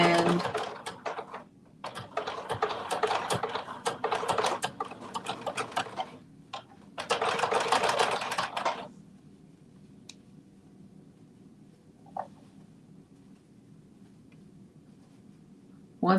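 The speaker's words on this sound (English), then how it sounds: "All right, so I'm sewing this down." A sewing machine stitches fabric down for a Simplicity 2450 garment in several rapid bursts of ticking, stopping and restarting, then falls silent apart from faint clicks and room hum.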